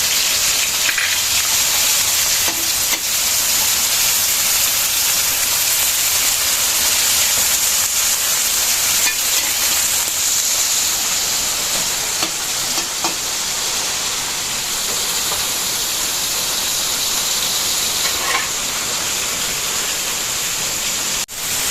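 Meat and tomatoes sizzle in a pan for a home-cooked Filipino ulam, a steady loud frying hiss with a few faint clinks, no talking.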